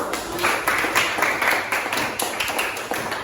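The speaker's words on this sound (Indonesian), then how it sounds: "tepuk tangan untuk bimbingan dari" A school class in Banyuwangi claps in a steady run of hand claps, moderately loud and fairly close, with no talk over it.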